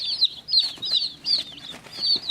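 Day-old chicks give high, thin peeping chirps in quick repeated bursts, steady and fairly close, with no talking.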